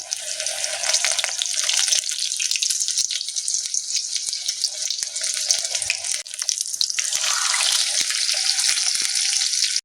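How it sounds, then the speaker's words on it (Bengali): Steady, loud sizzling of bok phool (flower) fritters deep-frying in hot oil over medium heat, close up, continuing throughout with a few soft clinks. "আঁচটাকে মিডিয়ামে দিয়ে আমি বকফুলের বড়াগুলো ভেজে নেব"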